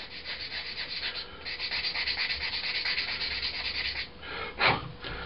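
Model kit part for a Hellcat rubbed on a sanding stick to flatten a gluing surface, a steady close abrasive scratching that runs continuously for several seconds, ending with a sharper scrape.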